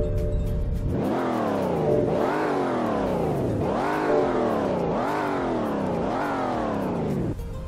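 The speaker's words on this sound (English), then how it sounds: "Here's a sound test." Simulated car engine in the Roblox Greenville game revs repeatedly, five rising sweeps that drop sharply and climb again in a steady rhythm, loud and close with no talk over it.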